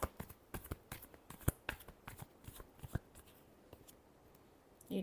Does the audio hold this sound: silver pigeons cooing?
no